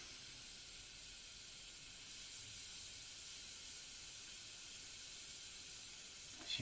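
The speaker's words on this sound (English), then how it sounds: "I'm just going to use a bit of compressed air just to blow this off." Compressed air hisses steadily onto a corroded, rusted Nintendo Switch circuit board, a continuous broadband blast lasting several seconds with no talk.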